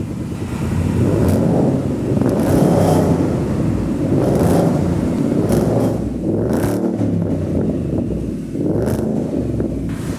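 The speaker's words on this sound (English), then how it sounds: "we'll fire it up and listen to the sounds of a beautiful V8" A V8 car engine fitted with a new Magnaflow exhaust rumbles deep and loud, revving repeatedly with throaty bursts through the exhaust over a steady heavy idle.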